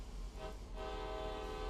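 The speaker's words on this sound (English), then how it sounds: "Let's get this train a-rolling." A CSX coal train in the Train Sim World game gets under way, with a steady low rumble and sustained horn-like tonal drones holding throughout.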